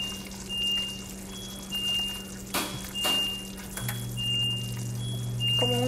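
A small splash of vanilla is poured into sugar-free keto caramel cooking on a stove, heard as a couple of brief, soft liquid pours over a steady background hum and faint tones.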